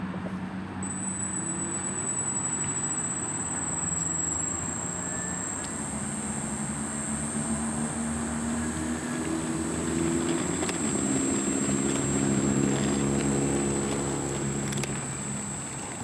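A model Albatross aircraft engine taxis at a little over quarter throttle, giving a steady, droning hum with a high whine and a low rumble that rises slightly partway through.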